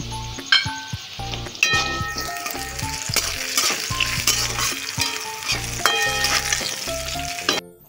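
Small pieces of carrot, potato and cauliflower fry in a pan with loud, constant sizzling, overlaid by rhythmic metallic clinks and scrapes of stirring throughout.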